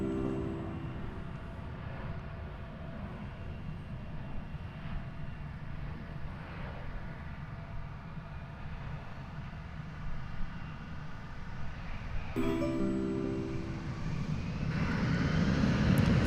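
An American Airlines jet takes off from runway 36 right at DFW, heard as a steady distant engine rumble that swells slightly toward the end, with no talk.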